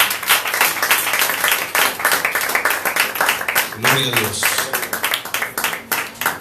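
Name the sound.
congregation clapping in praise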